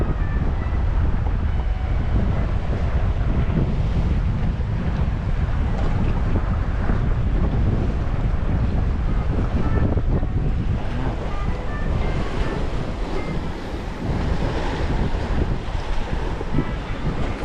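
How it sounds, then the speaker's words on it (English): Breezy wind gusting across the microphone at the Haulover Canal, a loud continuous rumbling roar with water wash beneath it, steady throughout with no talk. "It's a breezy day."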